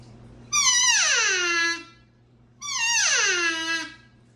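Two drawn-out, descending whines blown on an open reed elk call imitating an elk cow in estrus, each starting high and sliding down in pitch over about a second, loud and close with a pause between.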